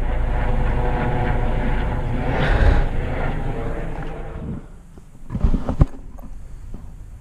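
Helicopter flying overhead on a walk to check the mailbox with a dog, a loud steady rotor and engine roar that slowly fades into the distance, followed by a few close knocks and rustles.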